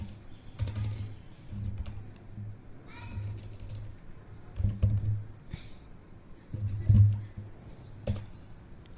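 Keys on an HP laptop keyboard tapped in short bursts while a repair command is entered, soft clicks over a low hum with a pause between groups.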